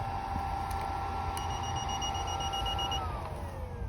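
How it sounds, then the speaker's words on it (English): A powered air-purifying respirator (PAPR) from a welding supply shop beeps as it is switched off: a steady electronic tone over a blower hum, then the pitch slides down as the fan winds down. "You can hear it beep when you turn it off."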